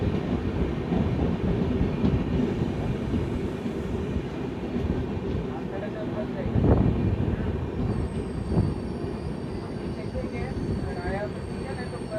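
Prasanti Express pulling into Kalurpara Ghat station, a steady near rumble of rail cars with rolling wheel noise throughout and brief louder clanks, a faint high squeal entering near the end.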